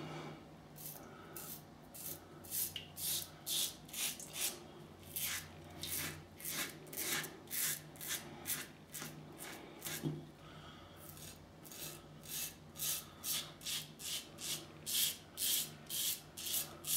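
An Edwin Jagger DE89 double-edge safety razor scrapes through lathered stubble in short rhythmic strokes, a steady series of crisp raspy passes close to the mic with brief pauses between groups.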